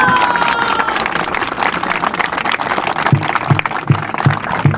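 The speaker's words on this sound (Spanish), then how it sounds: "un aplauso para los dos, por favor." Crowd applause and cheering for both teams at a youth midget American football final, Berrendos de San Luis versus Toros de Celaya, a steady outdoor clapping wash with a few rhythmic thumps near the end.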